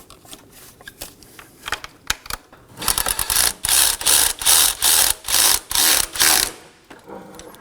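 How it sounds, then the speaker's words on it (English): A ratchet drives two 10mm fan mounting bolts on a 2018-2024 Chevrolet Equinox 1.5L cooling fan: scattered light clicks first, then a loud, close run of about nine rapid ratcheting bursts in steady rhythm. "Now let's install our two 10mm fan mounting bolts."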